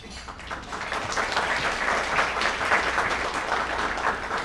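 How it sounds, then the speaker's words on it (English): An annual meeting and awards luncheon audience breaks into applause, a moderate, fairly distant patter of many hands that swells slightly and holds steady throughout. "You don't have to clap yet."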